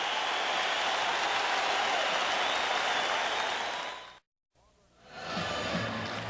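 A large arena crowd at the Palace of Auburn Hills applauds and roars steadily during a timeout in Game 1 of the 1989 NBA Finals, Pistons versus Lakers, then the sound cuts out and a quieter crowd murmur returns.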